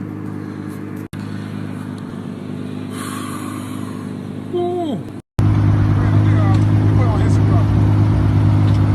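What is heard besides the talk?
car engine driving past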